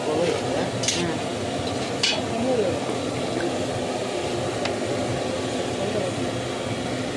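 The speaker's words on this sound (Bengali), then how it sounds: "তেজপাতা শুকনো লঙ্কা একসাথে খুব ভালো করে ভেজে নেব।" Bay leaves and dried red chillies frying in hot oil for Bengali khichuri, a steady close sizzle with occasional stirring scrapes of a spoon in the pan, under a voice talking.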